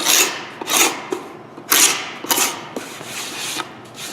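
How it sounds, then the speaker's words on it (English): A sharp paint scraper is drawn across an edge-glued wooden board to remove dried glue. It makes quick, close, rasping strokes in an uneven rhythm, about a half-dozen scrapes over a few seconds, with no one talking. "If the paint scraper is nice and sharp, it will do a very quick job of this."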